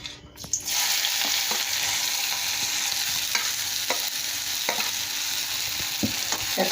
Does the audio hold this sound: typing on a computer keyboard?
no